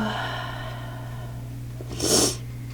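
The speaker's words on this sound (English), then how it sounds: "Excuse the sniffles, guys." A single short nasal sniffle from a person, a brief breathy burst close to the microphone near the end, over a steady low background hum.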